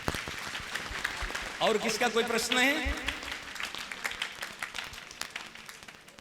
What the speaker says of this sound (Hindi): खूब तालियां